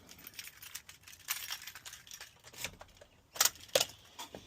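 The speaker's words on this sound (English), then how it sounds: "Ooh, helps if we get the keys." Keys jangling for an Isuzu NPR/NPS truck: soft metallic rattles and clinks, quiet at first, then a couple of brighter sharp jingles near the end, with no talk over them.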